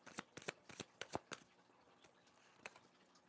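A deck of tarot cards is shuffled in a quick run of crisp riffling bursts, then a pause and one last short riffle, close by and alone in a quiet room.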